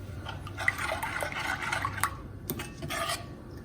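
A dish with coriander being stirred in a pan, with steady scraping and rubbing strokes running throughout at close range, fairly quiet and with no talking.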